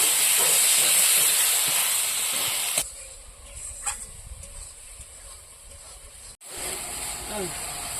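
Chopped tomatoes go into hot spice paste that has already released its oil, for an egg curry with ground poppy seed, giving a loud, steady hissing sizzle for about three seconds before it settles into a quieter simmer while being stirred.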